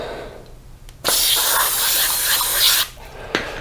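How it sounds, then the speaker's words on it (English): Brake cleaner from an aerosol can sprayed onto a blue shop towel while working on a 1983 BMW R100RS/RT motorcycle's front brakes, one loud steady hiss of nearly two seconds, close up, with no speech. "So I'm going to use some brake cleaner and spray that on a"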